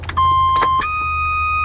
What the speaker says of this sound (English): It's grounded now, I'll turn the ignition on.